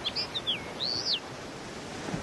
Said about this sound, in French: Encore un autre oiseau magnifique, la linotte mélodieuse, un beau mâle